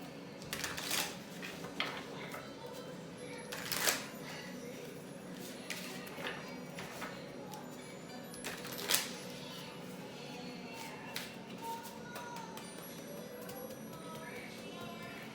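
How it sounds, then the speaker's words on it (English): Tarot cards being shuffled in a spiritual reading setting, with soft papery riffles and scattered sharper snaps recurring irregularly at close range over a quiet background. "Gonna get a shuffle."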